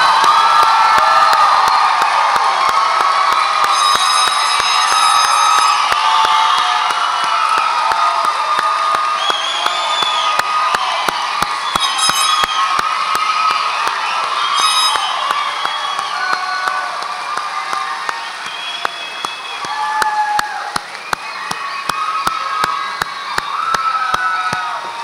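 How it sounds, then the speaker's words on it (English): Large crowd at a nursing graduation ceremony cheers and applauds continuously for the associate degree nursing graduates, with loud whoops and shouts rising over sustained clapping throughout. "how about a big round of applause for our Associate Degree Nursing graduates."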